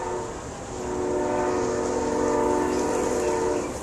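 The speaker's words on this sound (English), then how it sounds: "the train's going by." A train rolls past a home set between two railroad tracks on a Saturday, its sustained horn chord sounding over a heavy rumble that swells and then eases as it goes by.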